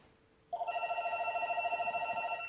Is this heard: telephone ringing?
yes